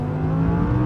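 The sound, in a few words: Lamborghini-derived Audi R8 engine revving as throttle is applied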